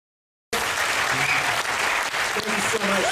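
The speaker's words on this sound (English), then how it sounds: "a huge round of applause for Dr. Cassar" After a brief silence, a lecture audience breaks into loud, continuous applause for Dr. Robert Cassar, dense clapping sustained to the end.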